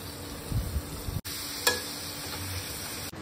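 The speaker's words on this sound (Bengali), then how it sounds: "এরপরে ওই তেলেই একটু কালো জিরে ফোড়ন দিয়ে পেঁয়াজগুলো ভেজে নেব" Onions frying in oil with nigella seeds, a close steady sizzle with a few sharp stirring scrapes and clicks against the pan.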